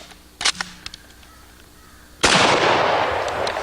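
A heavier gun with more recoil fires one loud, sharp report at a shooting range, followed by a long, rolling decay. Several quieter clicks and taps from handling the gun come first.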